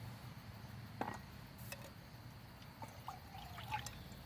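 Water trickles and pours faintly as a cup is rinsed out at a campsite, with a few soft splashes and dribbles over a quiet outdoor background and no talking.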